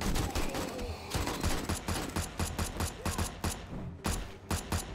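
Rapid gunfire in the zombie survival game 7 Days to Die, a dense, fast run of sharp shots repeating steadily and loudly for the whole stretch, close and unbroken.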